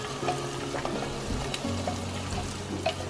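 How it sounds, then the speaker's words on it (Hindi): Onions fry with whole garam masala in a pot for a mutton dish, a close, continuous sizzle with small pops and occasional stirring clinks. "अभी ऑनियन ऐड कर देंगे और इसको हम लोग फ्राई करेंगे टिल जो ऑनियन है थोड़ा सा ब्राउन कलर ना हो जाए"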